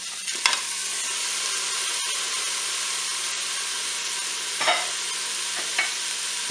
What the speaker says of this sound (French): je vais commencer à faire dorer mon filet mignon